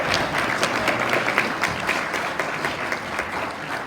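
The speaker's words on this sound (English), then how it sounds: "Let's give them one more round of applause." An audience at a youth talent show fundraiser gives a dense, steady round of applause, many hands clapping together at close range for several seconds.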